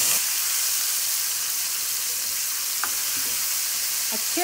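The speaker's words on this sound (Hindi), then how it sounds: "गार्लिक जिंजर की पेस्ट फ्राई हो गई है।" Garlic-ginger paste fries in oil with cumin seeds, a constant close sizzle with a few faint stirring clinks near the end, no voices.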